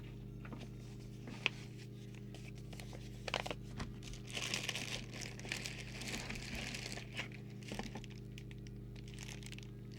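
A sticker is handled and peeled off a Midland M30 CB radio, giving faint, close crinkling and a soft tearing rustle with a few small clicks over quiet background hum.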